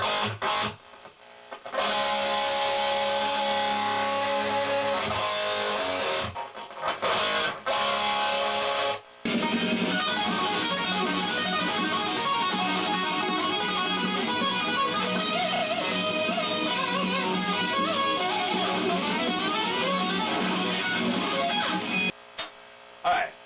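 A distorted electric guitar plays a fast, dense lead solo from a song over a full band, loud and continuous, with brief gaps near the start.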